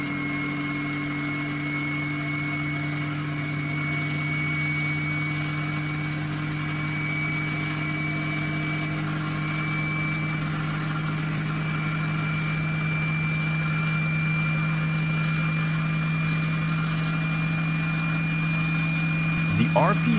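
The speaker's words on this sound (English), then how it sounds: "I wait until it reaches the maximum voltage that this generator can produce" A small DC generator spins steadily at high speed to power a 220-volt, 500-watt heating lamp, giving a sustained even hum and whine that holds constant for about twenty seconds, ending with a brief clunk.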